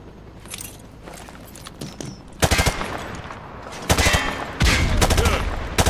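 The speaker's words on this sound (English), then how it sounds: "Toss the grenade down the range to take out several targets at once." Frag grenades go off on a firing range in Call of Duty Modern Warfare Remastered, several loud, sharp bursts in quick succession after a stretch of quieter clatter and movement.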